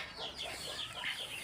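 Hens on a poultry farm cluck softly and repeatedly in the background, a faint, scattered chatter of fowl with no one speaking.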